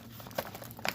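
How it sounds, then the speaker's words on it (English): Plastic bag crinkling as a cross stitch kit is pulled out of it, two short close rustles in a quiet room. "Let's see if I can get this out of its lovely plastic bag"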